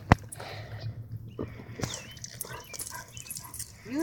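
A dog whimpers and yips in short, thin, high whines scattered through a quiet room, with a sharp close sound at the start and faint shuffling between cries.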